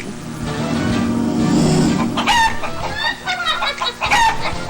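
A chicken clucks loudly and close, giving several sharp, rising squawks and clucks in an uneven burst after a brief stretch of low background noise.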